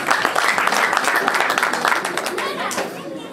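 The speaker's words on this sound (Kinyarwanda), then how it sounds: "Murakoze cyane mwiha amashyi." Guests at a wedding clap together in a lively round of applause, crowd chatter mixed in as the clapping slowly fades.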